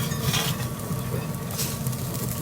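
Chicken pieces for burgers sizzle steadily in hot oil in a pan while being turned. The frying hiss is continuous and moderately loud, with faint scraping of the utensil and no speech.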